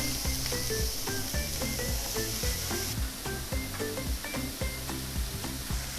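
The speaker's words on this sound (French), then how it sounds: "J'ai bien chauffé ma poêle, j'ai graissé." Devil-themed stuffed-tomato ingredients sizzle in a well-heated, greased frying pan, a loud continuous hiss close up, with rhythmic clinks and taps running through it.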